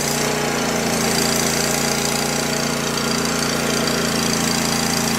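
Go-For digger engine with no air cleaner fitted, choked and running at idle, a loud, steady, close knocking chug that never changes pace.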